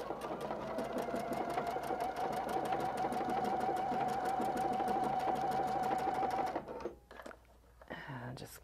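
A Pfaff Performance Icon sewing machine stitches ribbon in a fast, even mechanical chatter for about six seconds, then stops, leaving a few soft handling clicks and faint rustles.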